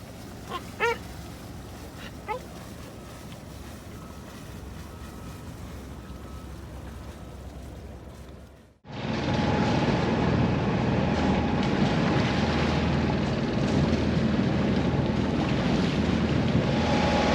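Strong wind roars and water rushes steadily around a small sailboat beating into a 17-knot headwind through choppy three-foot seas, loud and continuous after a brief quieter stretch with a few knocks at the start.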